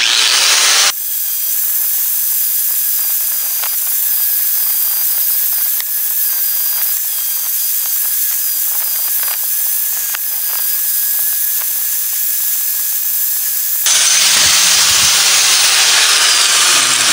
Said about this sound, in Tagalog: Nozzle naman ang susunod, i-flap disc ko